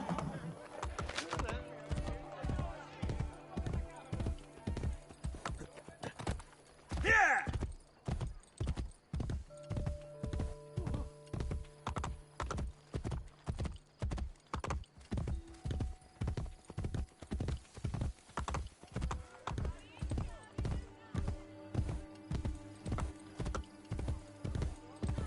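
Hooves clip-clop in a steady, fast rhythm as a horse gallops through Assassin's Creed Brotherhood, a brief whinny rising early on, with game music and effects layered softly underneath.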